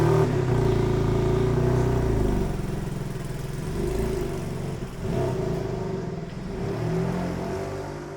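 A BMW M3 Touring pulls away, its engine note rising loud and steady with a deep low rumble, then easing slightly and building again over several seconds.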